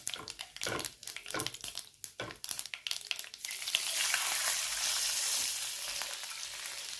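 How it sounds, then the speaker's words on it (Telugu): Hot tempering crackles and pops in a pan until a glass of water is poured in, setting off a loud, sustained hiss that steadies into a broad, even sizzle. "ఒక గ్లాసు నీళ్ళు పోసుకున్నానండి"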